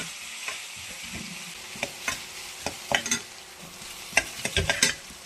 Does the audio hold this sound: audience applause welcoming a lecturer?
no